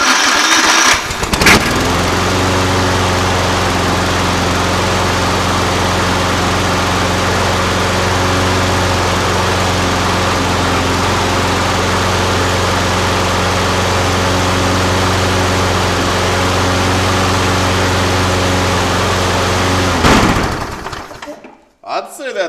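A Toro lawn mower with a freshly cleaned carburetor starts on its electric starter and then runs at a loud, steady, even drone close by for about twenty seconds before cutting off.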